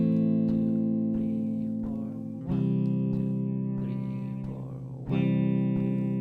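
Electric guitar with effects playing a riff at original speed, sustained distorted chords changing every couple of seconds with a chorus-like shimmer, close and without talk.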